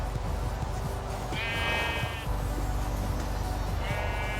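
Sheep in Minecraft Pocket Edition bleat twice, a short nasal call and then a second one near the end, over a steady game background hum.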